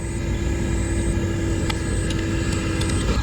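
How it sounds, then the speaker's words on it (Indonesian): An excavator loads stones into a dump truck at the Betung–Jambi toll road construction site. A loud, constant diesel engine drone with a steady whine is punctuated by a few sharp knocks and clanks. "Kita lihat mobil ekskavator sedang mengisi dam truk dengan batu-batu"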